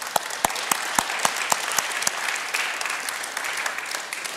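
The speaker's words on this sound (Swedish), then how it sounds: "nu ska vi välkomna upp panelen med en stor applåd" Audience in a Swedish debate event clapping to welcome a panel on stage, starting with a few loud separate claps that quickly merge into sustained, even applause from a large room.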